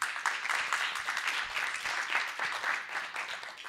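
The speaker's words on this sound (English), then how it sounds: "So please a warm applause for Mark Tudors." An audience at an IMPAKT event gives a warm, sustained round of applause for Mark Tudors. The steady, full-room clapping lasts several seconds without pause.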